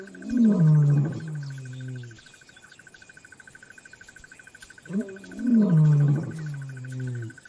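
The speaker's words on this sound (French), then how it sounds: "Leurs rugissements mettent les lionnes et leurs petits en alerte." Male lions roar on the South African savanna in two deep, rising bouts separated by a few seconds of quiet. Crickets chirp steadily underneath.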